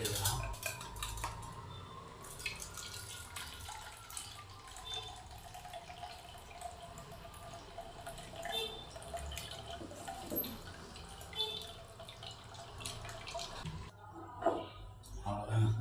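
Blended beetroot, carrot and ginger juice is strained in a kitchen, with soft liquid trickling and dripping alongside utensil clinks and scrapes against a container, while someone talks over it.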